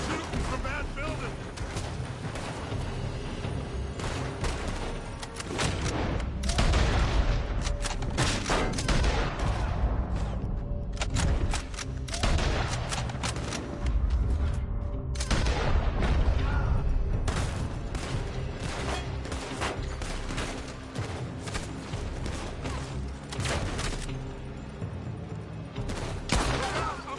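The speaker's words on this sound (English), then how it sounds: "They're shooting from that building." Dense gunfire from a building in a PS4 video game rattles in rapid bursts with heavy booms mixed in, loud and continuous for the whole stretch.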